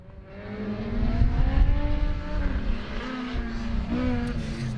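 Race cars with high-revving motorbike engines at an autoslalom event, heard from a race control tower as a sustained, rising and falling engine howl at moderate distance, with pitch sweeping as the cars accelerate through the course.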